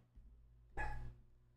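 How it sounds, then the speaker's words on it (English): One short, sharp dog bark stands out clearly over a low, quiet background hum in a cooking simulator game setting. "Why are you barking?"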